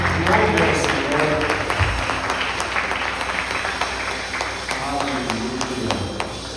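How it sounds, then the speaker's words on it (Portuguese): A church congregation applauds with steady, crowded clapping while voices carry over it, filling the room throughout. "Aplauda o Senhor mais uma vez."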